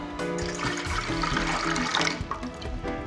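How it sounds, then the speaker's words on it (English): Lemon juice splashes and trickles steadily into a lemon sorbet mixture, close and continuous for a few seconds. "So what we do is add our lemon juice."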